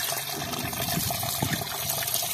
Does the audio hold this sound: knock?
no